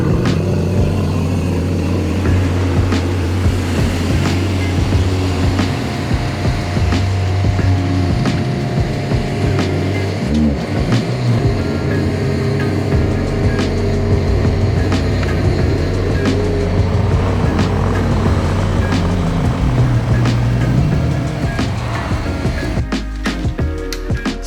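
A Toyota MK5 Supra with a catless downpipe idles and rumbles steadily as it is moved, a close continuous engine drone with small shifts in pitch and a few sharp clicks near the end.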